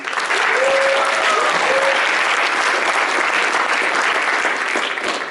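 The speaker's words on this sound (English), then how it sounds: "round of applause for everybody here, please" Sustained, loud applause from a conference audience for a panel, dense and steady from start to finish, with a faint voice briefly audible early on.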